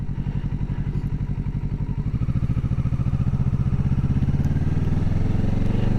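Motorcycle engine pulling through the gears, its firing pulses thumping in a fast, even rhythm that climbs steadily in pitch as revs build, close and loud throughout with no talking.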